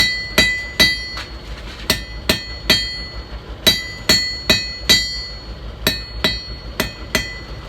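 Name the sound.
cross peen hammer forging hot steel nail header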